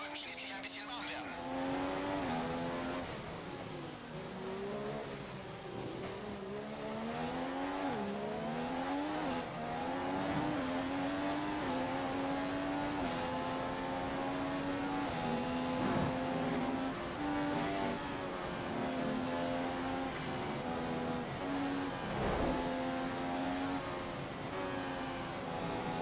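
Formula 1 race car in the F1 2015 video game at the US Grand Prix, engine revving and climbing through gears in a steady loud drone with shifting pitch, tire squeal and voices talking over it.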